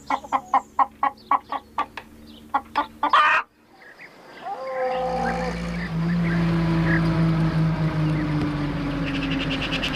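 A hen that has wandered into a churchyard gives a quick, rhythmic run of about ten loud, close clucks. The sound then cuts off and gives way to a different low, steady drone.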